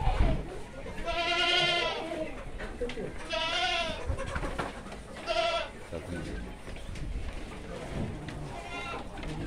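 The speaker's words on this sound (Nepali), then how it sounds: "यो जमुना पारी बोका" A Jamunapari buck on a goat farm gives three or four loud, close, wavering bleats, spaced a few seconds apart.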